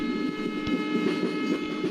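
A WDP4B diesel locomotive in a railway simulator game runs steadily, a continuous engine drone with faint wheel rumble and a few soft knocks over two seconds.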